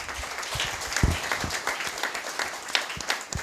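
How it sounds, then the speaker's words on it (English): A small audience at a strategic thinking business talk applauds, giving scattered, uneven clapping with a few sharp, close claps standing out over the broader patter. "Let's give him a round of applause."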